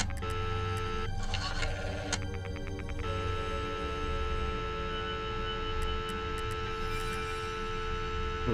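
A telephone in the Friday the 13th Virtual Cabin 2.0 video game rings in a few short buzzing bursts over a constant droning game hum, and a few faint high beeps follow near the end.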